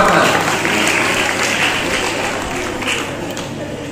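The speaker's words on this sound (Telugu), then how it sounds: "గట్టిగా చప్పట్లు కొట్టాలి" A crowd claps loudly and continuously at a family New Year 2025 celebration, a dense steady wash of applause close by with some voices mixed in.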